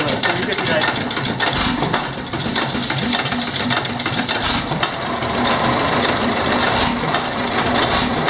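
A 1912 Fairbanks-Morse 15 horsepower hit and miss engine running close by, a steady rapid mechanical chugging that picks up, with someone talking over it.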